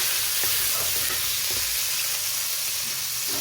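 Chicken gizzards dropped into hot cooking oil for adobo, giving a loud, dense, continuous sizzle close up, with faint stirring bumps underneath and no talking.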